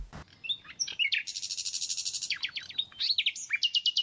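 Sparrows and other small birds chirp in a park in Zagatala, with quick, repeated high tweets and trills, some rapid chattering runs, fairly close and clear with no talking.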